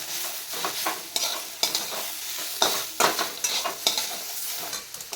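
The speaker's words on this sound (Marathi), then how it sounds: "आता हे सगळं पुन्हा 1 मिनिटभर भाजून घ्यायचं" Tomato, ginger, garlic and coriander masala roasting in a pan, with a steady sizzle and repeated scraping strokes of a spatula stirring it up close.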